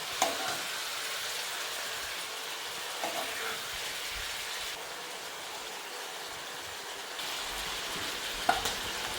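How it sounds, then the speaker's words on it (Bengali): Fish frying in a pan of oil gives a steady, close hiss and sizzle that runs the whole time, with a few soft clinks and bumps from the pan. "মাছ আমি বেশি ভাজবো না, আজ মাছ বেশি ভাজলে শক্ত হয়ে যায়।"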